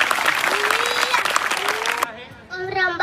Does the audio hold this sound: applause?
yes